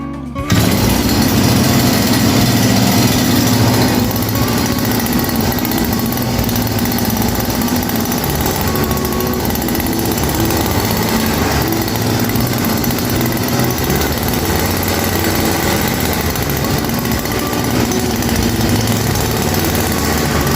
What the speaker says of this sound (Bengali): এখন আমরা কিক দিয়ে মেশিন স্টার্টের ভিডিওটি দেখাচ্ছি